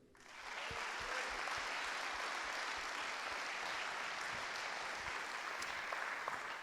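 A municipal council audience claps for a newly installed deputy at an inaugural meeting of the mayor and council, applause rising quickly from quiet into a sustained, even patter that stays moderately distant.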